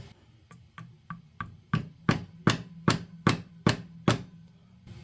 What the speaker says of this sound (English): We will now hammer in the bung with our with our hammer.